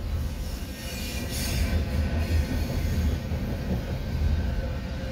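Northbound CSX intermodal freight train rolling past with a steady rumble of wheels on rail and brief high squeals, continuous and fairly near.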